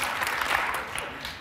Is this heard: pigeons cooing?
no